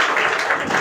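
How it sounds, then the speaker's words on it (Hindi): Brief burst of dense audience applause, many hands clapping at once, loud and close for under a second. "जोरदार ताली बजा दो"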